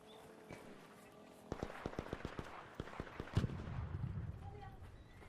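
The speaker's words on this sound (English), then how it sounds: "Gunshots back." Gunfire in Call of Duty MW3 ranked play: a rapid burst of sharp shots in quick succession, followed by a louder blast and rumbling, all fairly faint under a player's voice.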